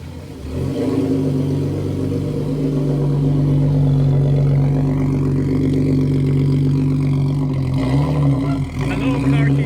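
A car's engine hums steadily and loud while driving down a street, a low continuous drone that swells slightly as it revs, with talking faintly underneath.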